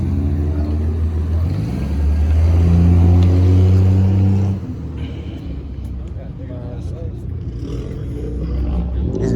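A car at a meet in Grand Rapids, Michigan, its engine producing a deep, loud, rumbling gurgle nearby that drops in level partway through, with voices talking over it.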